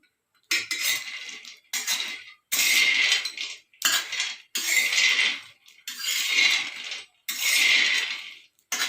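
Peanuts dry-roasting in a pan rattle and clink in repeated bursts as they are stirred, each burst about a second long with short quiet gaps between, close and fairly loud.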